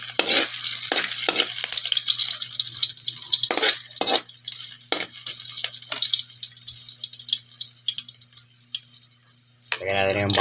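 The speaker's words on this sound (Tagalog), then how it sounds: "At ngayon po naman ay gigisahin na po natin yung mga ricado." Garlic and onion aromatics sautéing in a pan for chicken curry, with a steady broad sizzle and repeated sharp clinks of a utensil stirring, ending in a brief burst of nearby speech.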